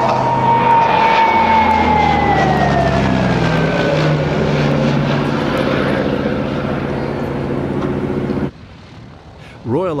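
A CAC-19 Boomerang, a WW2 fighter, drones past with a loud propeller engine whose pitch slowly falls as it moves away, fading and then cutting off near the end.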